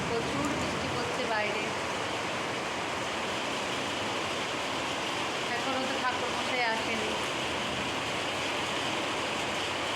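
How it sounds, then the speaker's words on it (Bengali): Heavy rain pouring down during a thunderstorm, a dense, loud, unbroken hiss of rainfall filling the whole stretch. "মুসলধারায় বৃষ্টি পড়ছে"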